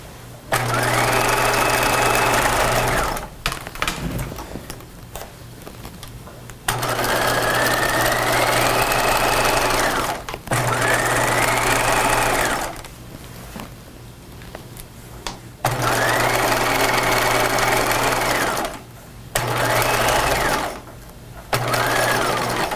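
A sewing machine stitches a 5/8-inch seam on a cropped retro jacket in steady whirring bursts of a few seconds each, stopping and starting about five times with short pauses between runs.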